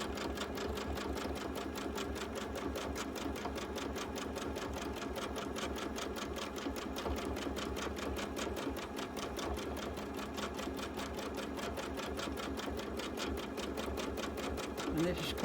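A sewing machine stitching a baby quilt, a fast even mechanical chatter that runs steadily and close without a break, with a voice talking faintly over it.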